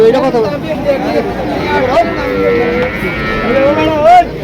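Calves and young bulls low repeatedly at a crowded Bangladeshi cattle market, loud and close, with people talking and general crowd noise throughout.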